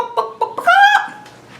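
A person imitates a chicken with a few short clucks followed by a longer drawn-out squawk, close and clear against a quiet background.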